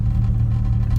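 Lowered, modified Honda Civic EK4 Si cruising gently, its engine giving a steady close low hum with constant rumble and no revving or speech.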